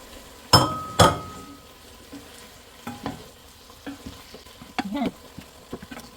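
Chicken bones fry in a pan with soy sauce. Two loud metallic clanks of a utensil against the pan open the sequence, followed by softer, scattered scraping and clinks of stirring over a low sizzle, with no voices.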